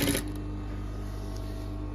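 A sewing machine stitches a folded seam on an apron, giving a close, steady mechanical whir with an even rhythm after a brief clatter at the start, and no talking over it.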